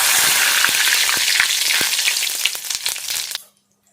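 Bay leaves and whole cumin seeds hit hot oil for a mutton curry, giving a loud, steady sizzle with scattered crackles and pops that cuts off abruptly near the end.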